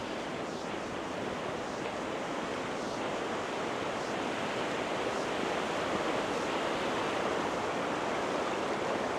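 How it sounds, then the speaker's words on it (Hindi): The Akbura River flows past a university campus in Osh as a steady, loud, unbroken rush and babble of water, close by with no talk. "इसको बोलते हैं हम अकबूरा नदी। ये पूरा इधर जो कल छल की आवाज़ है"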